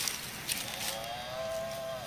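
A toy cow or water buffalo lets out a single drawn-out moo, clear and fairly close, with no one talking over it.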